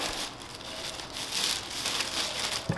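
Plastic bag crinkling near an E92 BMW 335i radiator and intake during a mod install, a steady close rustle and crackle running throughout with a sharper crunch near the end.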